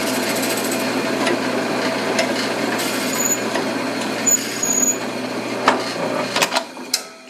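A drill drives a reamer through holes in aluminum wing brackets lubricated with WD-40, giving a steady whirring grind that runs throughout, with a few sharper clicks and knocks toward the end.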